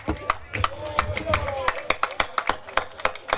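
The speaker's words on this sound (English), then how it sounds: "you must clap for yourselves" Guests at a family cook-out clapping, a scattered run of separate, fairly close hand claps in an uneven rhythm, heard over background chatter.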